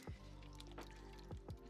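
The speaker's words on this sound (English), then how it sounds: "Stir it around a little bit." Manganese dioxide stirred into water with an old brush for pottery mocha diffusion, faint wet swishing and a few soft squelching drips close up, no voices.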